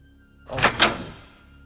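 A bedroom door at night gives two quick, close thunks a split second apart, like a latch releasing and the door swinging open, then trails off into a quiet room.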